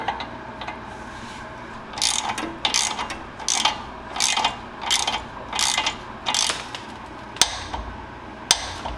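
A ratcheting wrench tightens a sway bar end link on a Jeep Wrangler during lift work, giving a close series of rhythmic clicking bursts spaced about a second apart, with a few sharper knocks near the end.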